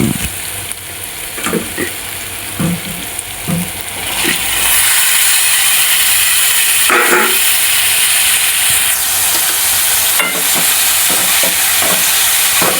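Offal (vajdi) dropped into hot, oil-slicked Kolhapuri-style masala bursts into a loud, steady sizzle, with scraping stirs and clicks from the pan continuing throughout.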